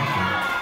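Children shouting and cheering as a crowd at a Minecraft build challenge event with team competition, a brief loud wash of many excited voices.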